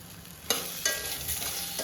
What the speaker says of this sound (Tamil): கொய்யாக்காய் நல்லா வதங்கி வந்துருக்குன்னு அர்த்தம்